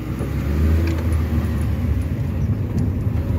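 A Mini car drives along with its engine running, producing a loud, steady low rumble and road noise from inside the car.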